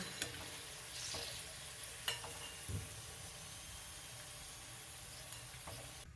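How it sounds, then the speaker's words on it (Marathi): Potato balls deep-fry in hot oil with a low, steady sizzle and a few soft knocks and stirring scrapes, faint and close in an otherwise quiet kitchen. "याच पद्धतीनं बाकीचे बॉल्स हे आपण फ्राय करून घेऊया"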